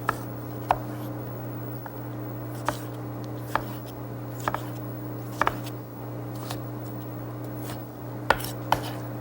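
Sliced chilies dropped into a bowl in a kitchen, a scattering of light clinks and soft knocks at irregular intervals over a steady background hum.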